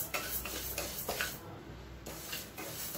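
Moong dal is dry-roasted in a pan and stirred, giving soft scraping and rustling strokes of a spoon against metal, close and quiet, in an irregular rhythm.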